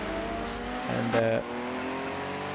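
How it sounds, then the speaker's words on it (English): A white Porsche race car in Project Cars 2 sweeps through the final bend, its engine revving hard in a brief loud surge over a steady background engine drone. "coming through the final bend in the number one Porsche, the white Porsche, fantastic looking beast of a car"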